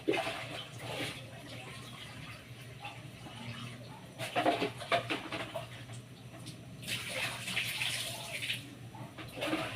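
Pork leg being rinsed under a running kitchen tap, water splashing in an uneven flow with a few louder bursts as the meat is turned, steady low hum underneath.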